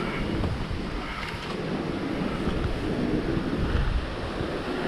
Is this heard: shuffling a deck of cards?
no